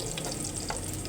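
Garlic and onion slices sauté in a hot pan with a steady close sizzle and light stirring scrapes, no voices.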